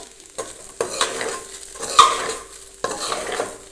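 Poha with potatoes being stirred in a pan, a spoon scraping and turning the flattened rice in a few distinct strokes over a faint sizzle, close and clear with no talking.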